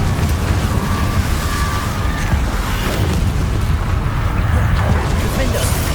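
A dense, roaring blast from the Confringo curse in Hogwarts Legacy fills the scene, loud and continuous with rumbling low end and crackling bursts layered over a spell-casting voice.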